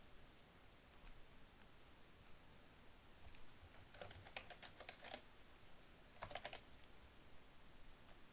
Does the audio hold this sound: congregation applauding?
no